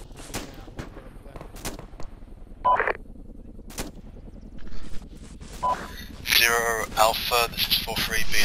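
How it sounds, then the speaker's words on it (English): Gunfire in the military video game ArmA II: sharp, separate shots crack out irregularly, followed by louder bursts of rapid fire near the end, mixed with radio chatter and talking. "We're receiving fire."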